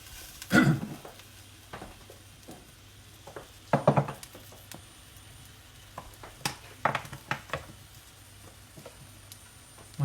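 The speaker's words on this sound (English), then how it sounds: "So you should hopefully have a nice bit of a sizzle in the pan, which I've got going there." Chunky artichokes and salted peppers sizzle in a paella pan. A quiet, steady frying hiss is broken by sharp crackles and occasional utensil clatter, with no talking.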